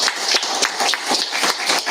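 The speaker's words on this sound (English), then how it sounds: "So if I could get a round of applause for Ryan." Steady applause from a conference audience at a Cardano summit in Perth, a dense continuous patter of many hands clapping, fairly loud and even throughout with no talking over it.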